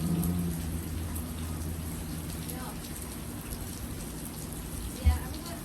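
Steady rain falls outdoors in a thunderstorm setting, a constant hiss of drops on surfaces filling the background at close range, with one brief louder thump near the end.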